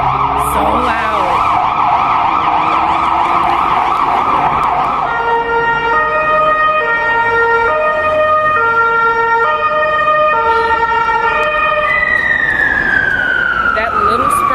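Siren on a small Sprinter van in Budapest wailing loud and close, first a rapid warble, then a steady two-tone up-and-down cycle with a rising sweep at the end, over road traffic noise.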